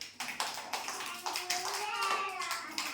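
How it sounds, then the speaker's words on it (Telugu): A group of young children at an anganwadi preschool claps along in quick, uneven bursts, near and moderately loud, with children's voices mixed in under the clapping. "క్లాప్స్ కొట్టండి"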